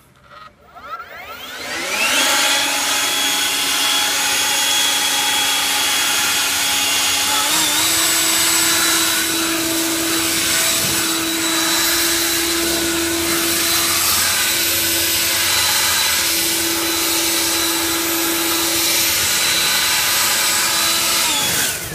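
A battery-powered leaf blower spools up fast and then runs on turbo as a loud, steady whine with a strong airflow roar, holding close and constant with a slight pitch rise partway through.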